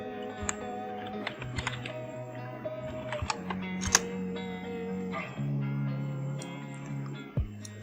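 Typing on a computer keyboard, a quick uneven patter of key clicks with a few sharper taps, close and fairly quiet over a steady background hum, with no voices.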